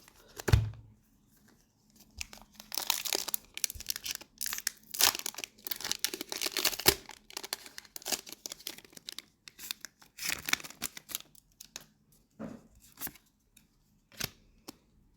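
Pokémon card booster packs being torn open and handled, with irregular crinkling, ripping and rustling bursts of foil wrapping close up, separated by short pauses and no talking.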